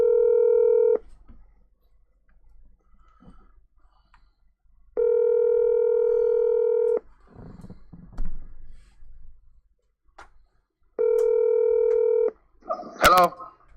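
Three long steady telephone dialing tones play through a phone on speakerphone, each lasting a second or two, separated by quiet gaps with faint clicks and movement.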